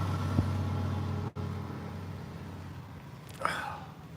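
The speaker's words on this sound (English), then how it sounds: "I had to speak up, these loud trucks." Loud trucks drive by on a road at Assateague Island, Maryland, giving a steady close engine rumble with a brief break and a short higher whine near the end.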